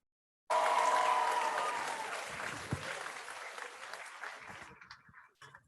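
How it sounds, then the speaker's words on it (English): Sudden audience applause at a university cultural show, a dense wall of clapping from a crowd that starts loud and gradually thins out, fading to scattered claps at the end. "Can we have another huge round of applause for our wonderful seniors?"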